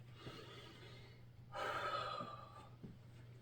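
A deep breath taken during a leg exercise routine, a sharp inhale swelling for about a second, followed by faint soft breathing against a low steady hum.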